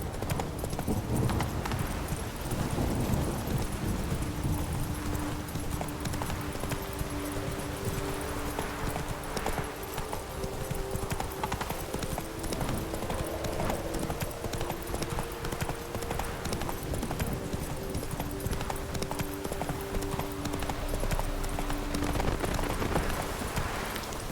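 A horse galloping in The Witcher 3: Blood and Wine, rapid continuous hoofbeats in a steady rolling rhythm under a dense layer of game ambience, loud and sustained throughout.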